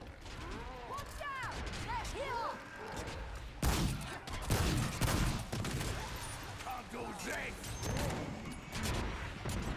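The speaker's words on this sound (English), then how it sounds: "Somebody's shooting me, but I don't know where he's up here." Enemy fire in the online game DDO, with bursts of shots, mechanical clanks and whooshing effects rising to sharp impacts midway, loud and busy throughout.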